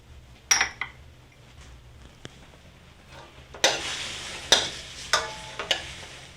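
A stir fry sizzles in the pan as soy sauce is drizzled around the sides, with a steady frying hiss under sharp clinks and scrapes of a utensil against the pan.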